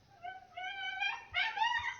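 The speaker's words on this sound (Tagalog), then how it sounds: "Iyak na naman yung aso." A dog on a rural farm whimpers in two or three drawn-out, high, wavering whines. The whines are moderately close and heard alone, with no talking.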